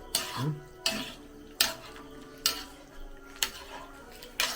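A chicken curry mixture being stirred in a pan, with a spoon scraping and knocking against the metal in sharp strikes about every second, close and fairly quiet.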